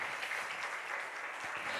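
A church congregation at a Sunday morning service applauds, dense steady clapping that holds at even loudness throughout.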